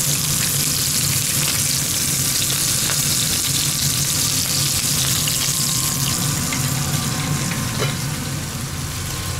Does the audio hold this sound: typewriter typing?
no